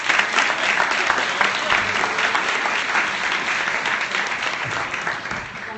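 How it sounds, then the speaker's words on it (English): A studio audience on a morning TV show set claps continuously, a dense, loud, even wash of applause lasting the whole stretch and fading slightly toward the end. "let's give a little more applause than we just did"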